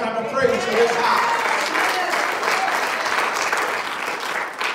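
A church congregation gives a hand clap of praise during a Sunday morning service, a dense, sustained burst of applause filling the room at close range.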